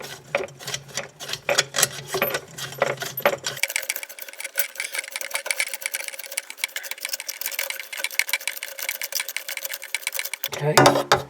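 A tool works a faucet fitting loose under a sink with a rapid, even run of close metallic ticking and rattling. A brief pause interrupts it partway through before it resumes.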